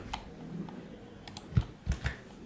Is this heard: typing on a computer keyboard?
yes